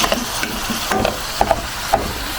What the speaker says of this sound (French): Là, je vais bien mélanger.